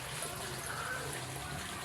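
Water drains out of an African catfish pond in a steady, faint trickling flow, with no clear talk over it.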